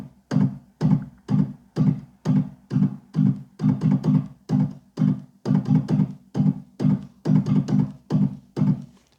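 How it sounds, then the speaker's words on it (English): Reggae organ double shuffle played alone, a tight pulsing pattern of short staccato chords repeating evenly in pairs of quick strokes, clear and close with no voices. "The second ingredient or spice that I like to add in is the double shuffle."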